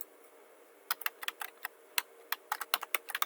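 Keys clatter on a computer keyboard in short irregular bursts of close, crisp clicks, typing a web address in a quiet room with no voices.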